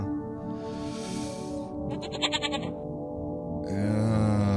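Goat in Rusty Lake Paradise bleating in long, wavering, nasal calls, loud and close and repeated back to back with almost no pause between them.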